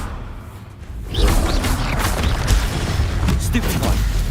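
Stupefy spell cast in the Hogwarts Legacy video game, a swooshing magical burst with booming thumps amid dense battle noise, loud and close.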